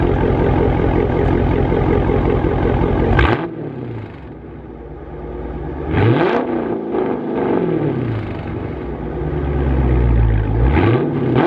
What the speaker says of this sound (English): I'm gonna go ahead and start this up. I'm gonna rev it and show y'all the stop.